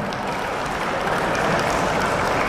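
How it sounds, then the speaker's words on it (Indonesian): Audience applause at a cultural gathering in Depok, a thick, continuous wash of clapping from a crowd, steady and fairly loud for the whole stretch. "Ya, tepuk tangan untuk kita semua."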